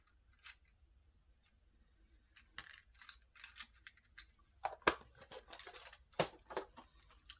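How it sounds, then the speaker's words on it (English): Large metal paper clips for a junk journal craft project being taken out and handled, giving a string of small clicks and light clattering taps that grow busier and louder toward the end, close up with no talk. "I'm going to get out one of these big old paper clips."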